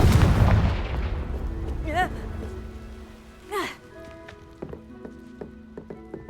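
The Confringo blasting spell goes off in Hogwarts Legacy with a loud, booming burst up front that fades out, followed by swooping magical whooshes and scattered chiming game tones.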